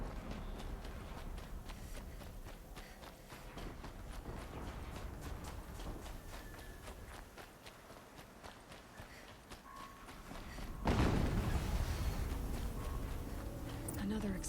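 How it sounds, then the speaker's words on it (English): In Horizon Zero Dawn, steady hoof-like steps and ambient game sound give way to a heavy explosion near the end, a broad sudden blast that trails into lingering rumble. "Another explosion."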